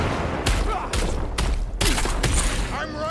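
Bursts of gunfire in the video game Cyberpunk 2077, four or five loud, sharp volleys in quick succession with booming low thuds, mixed with game voices and effects between shots.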